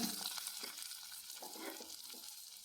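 Sliced onion sizzles quietly in a pan for vegetable biryani, a soft steady crackle with a few faint stirring scrapes and no talking.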